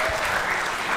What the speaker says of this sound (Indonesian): Tepuk tangan yang meriah buat mereka.